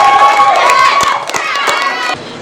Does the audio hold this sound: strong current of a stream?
no